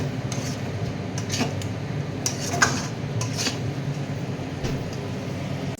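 A spoon scrapes and clinks against a cooking pot while chicken curry with added water simmers, with irregular metallic knocks over a steady bubbling background.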